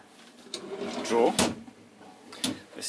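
A kitchen drawer in a Laika Kreos 5009 Italian motorhome slides with a rolling rumble and shuts with a soft thump, close by, while someone talks.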